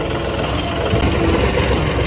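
A John Deere tractor engine runs loud and steady while straining to lift a loaded trolley with its hydraulics, a continuous low rumble and vibration with no speech over it.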